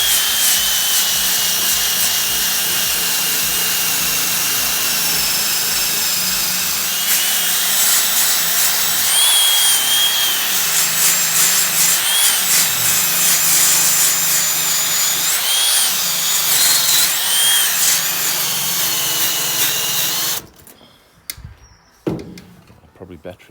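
A cordless drill fitted with a knot wheel strips a 1966 Chevy C10 truck cab roof down to bare metal, making a loud, continuous grinding whine for about twenty seconds before cutting out, leaving a few faint knocks.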